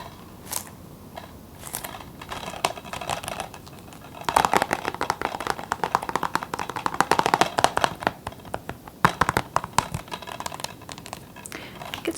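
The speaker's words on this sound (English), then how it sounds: "It's rattling because so this one, the lock is broken on the bottom half" A plastic DVD case with a broken lock on its bottom half clicks and rattles in quick, irregular bursts of close, dry taps, sparse at first and then busier and denser.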